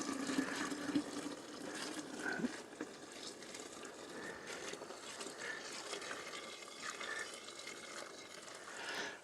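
Boiling water at about 80 degrees pours steadily and splashes onto a currant bush for several seconds, a continuous close wash of liquid with no talking.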